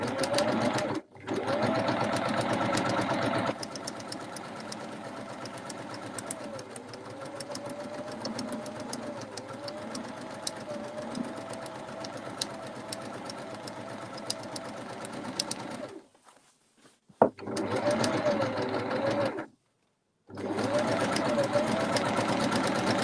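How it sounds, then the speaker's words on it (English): A sewing machine stitches steadily around the edge of block-printed fabric, a close, continuous mechanical whir that stops briefly twice near the end before starting again. "So again, just taking just over the width of the foot. I'm just going to sew all the way around."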